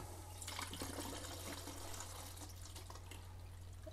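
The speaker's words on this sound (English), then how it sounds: "I'm going to pour my developer in" Film developer poured into a developing tank for medium-format film, giving a steady liquid splashing and gurgling, close and fairly loud, with no voices.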